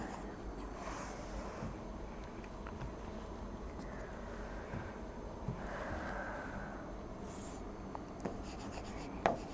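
A pen scratching across paper while drawing a molecular orbital diagram, a soft continuous scribbling rasp close to the microphone over steady background hiss, with occasional faint strokes and breaths.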